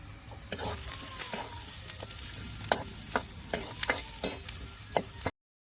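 Onion being sautéed and stirred in a pan for a bitter gourd dish: a soft frying sizzle under repeated sharp spatula clacks and scrapes in an uneven rhythm, growing more frequent toward the end, close and unaccompanied by talk.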